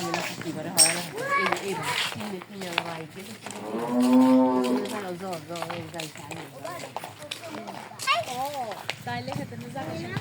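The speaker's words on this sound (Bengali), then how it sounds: "সবগুলাই অস্ট্রেলিয়ান গরু মনে হইতেছে" Cattle low repeatedly, nearby, amid children's chatter and voices talking throughout.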